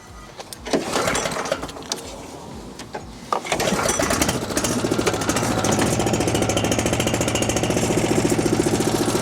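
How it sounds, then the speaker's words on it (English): A small gas engine on a Cyclone Rake leaf vacuum is pull-started with a couple of rough cranks, then catches and runs steadily and loudly at close range, its rapid firing rhythm holding through to the end. "So we're going to turn the gas on, set the choke,"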